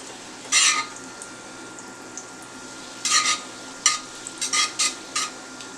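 A tablespoon of butter goes into hot olive oil in a pan, giving several short, bright sizzling bursts that flare and fade against a low steady hiss, close by and with no talk.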